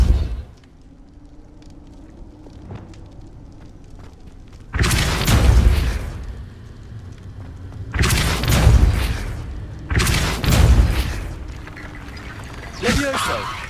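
Depulso force spell blasts in Hogwarts Legacy, several loud booming bursts spaced a few seconds apart, each a short heavy rush over a quieter ambient background.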